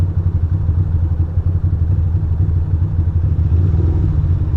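A motorcycle engine idles and rumbles loudly up close, a steady low throb with slight variation and no talk over it.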